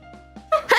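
A streamer's quick sneeze, two faint catching breaths followed by a sharp, louder burst, close to the microphone.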